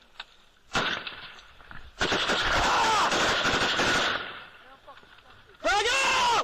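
Rifle and machine-gun fire erupts during a Taliban ambush on US soldiers, with dense sustained bursts of rapid shots, loud and close, mixed with shouting voices and a final sharp volley.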